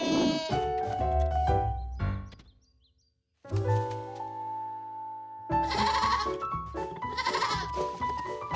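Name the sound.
baby goats bleating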